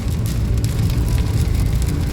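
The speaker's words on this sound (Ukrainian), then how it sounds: "Дощик, звісно, йде." Steady rain drums on a car body and windshield, a dense, even hiss and patter close around the listener with no break throughout.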